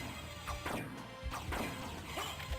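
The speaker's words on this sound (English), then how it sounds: "I want to hit this gear until it makes a click noise." Repeated thwacking hits on a gear in the Symphony of the Night video game, several sharp impacts layered over busy game music and effects at a steady moderate level.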